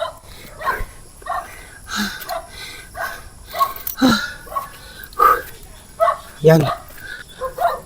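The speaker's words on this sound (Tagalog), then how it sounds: "narinig nyo, may aso" A dog barks several times at a distance, short sharp yelps scattered among people talking nearby.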